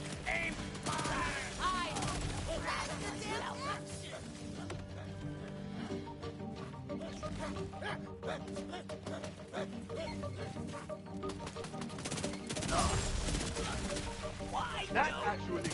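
Gunfire in Borderlands 4: bursts of rapid shots and mechanical clatter ring out over a busy game soundtrack, with talk in the background.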